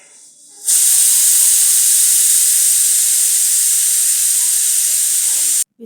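A pressure cooker with eggs inside lets off a loud, sharp steam whistle. The hiss starts abruptly, holds at a steady, forceful level for about five seconds, then cuts off.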